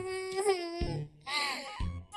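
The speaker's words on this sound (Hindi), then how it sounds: "अपने पति की जली कटी बातें सुनकर टुनटुनी चिड़िया रोने लगती है" A cartoon bird character cries in a high, wavering voice in two sobbing phrases, close and clear, with short gaps between them.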